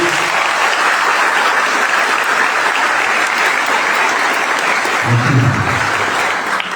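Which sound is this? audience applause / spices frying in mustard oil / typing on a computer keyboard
audience applause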